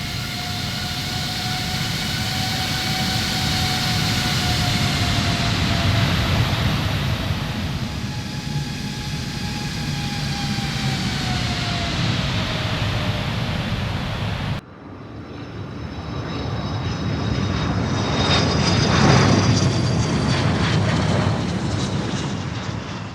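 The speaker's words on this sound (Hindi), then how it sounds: "शाम 6:05 पर फ्लाइट 631 रनवे पर अलाइन होती है और कुछ ही सेकंड्स में टेक ऑफ कर जाती है।" Korean Air flight 631, an airliner, takes off with a loud, sustained jet engine roar and whining tones that shift in pitch as it accelerates, continuing steadily for over twenty seconds with no voices.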